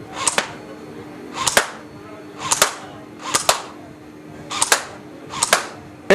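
Six sharp shots ring out at a fairground balloon-shooting stall, evenly spaced about a second apart, loud and close, each a crisp crack with faint background noise between.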